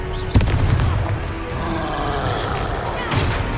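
A Confringo explosion spell goes off in Hogwarts Legacy with a sharp, loud burst. A thick, rumbling roar follows, and a second swell rises near the end.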